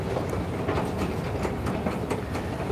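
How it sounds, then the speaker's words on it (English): A train in a deep subway station: a sustained rumble with rhythmic clattering of wheels over rail joints, close and steady, no voices. "this is a fairly deep subway station"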